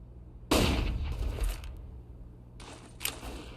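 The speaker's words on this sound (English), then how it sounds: "Deploying flashbang." A flashbang grenade detonates in a video game with a sudden loud burst that rings and fades over about a second, followed by a softer crackling burst.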